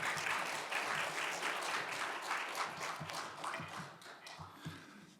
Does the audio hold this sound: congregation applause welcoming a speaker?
yes